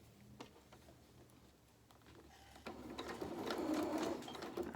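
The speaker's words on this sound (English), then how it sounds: "when you're sewing trim on like this, you've got to choose a point at which you're sewing" A sewing machine stitches trim onto a reversible winter cape, quiet at first, then a faster, louder whirring run of stitches close by, with no talk.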